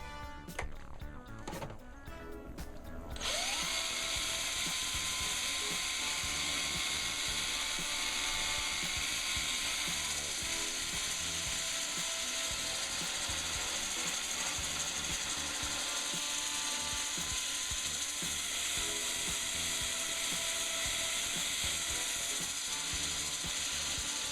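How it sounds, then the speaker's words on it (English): A cordless drill spinning a sanding pad on an elm bowl whirs continuously with a steady high-pitched spin, preceded by a few brief clicks and rattles at the start. "my cordless drill."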